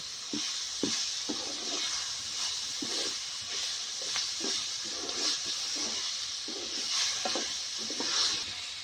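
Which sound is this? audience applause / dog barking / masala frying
masala frying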